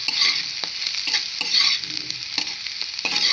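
A spoon scrapes and stirs lentil chili powder into food frying in oil in a pan, with quick rhythmic strokes over a steady, close sizzle.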